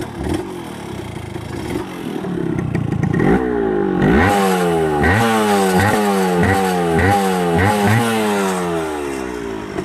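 Dirt bike, bought at auction with a new piston fitted, kicked over several times before the engine catches and runs with a steady, revving two-stroke-style rhythm, close and loud with some rattling clatter.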